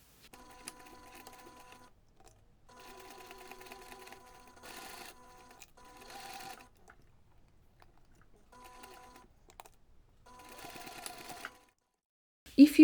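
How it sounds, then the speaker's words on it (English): A sewing machine bastes layers of fabric for a small reindeer pouch, running in several short bursts of rapid stitching separated by pauses, close and moderately loud. "Then you can take this to the machine and baste everything together"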